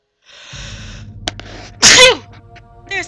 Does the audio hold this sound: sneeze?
yes